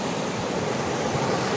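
Large ocean waves breaking on a beach, about six metres high, heard as a dense steady roar of surf close to the microphone.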